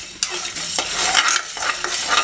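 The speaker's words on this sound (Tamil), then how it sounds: "2 இனுக்கு கருவேப்பிலை எடுத்து இதிலேயே போட்டு ட்ரையாக வறுத்துடலாம்." Curry leaves dry roasting in a hot pan for mutton chukka, a close, bright crackling sizzle with a couple of sharp stirring scrapes, steady across the whole moment and no talk.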